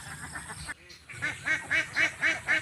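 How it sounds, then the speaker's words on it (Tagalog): Farm ducks quack in a rapid, evenly spaced series of loud, close calls as they trail a tractor working a harvested rice field, with a brief quiet gap before the calls resume. "So yan po ang habol ng ating mga alagang itik."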